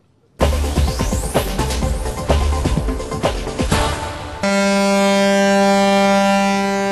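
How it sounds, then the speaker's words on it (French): A loud, deep siren from the tall ship Mircea blares at Brest 2008, first wavering with clattering noise, then settling into a steady, sustained tone that holds to the end. "La sirène du Mircea inaugure officiellement les festivités de Brest 2008"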